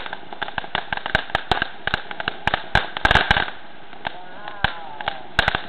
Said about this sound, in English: I'm very happy of this fireworks